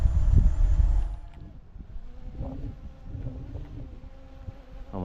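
Small camera drone flying fast and climbing outdoors in wind, its high buzzing whine loud at first, then fading to a fainter steady hum with wind noise.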